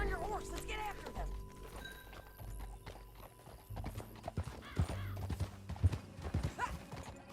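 Rhythmic hoofbeats of a horse clip-clopping along with a whinny in Red Dead Redemption 2, under a voice calling out, with game-like music and effects.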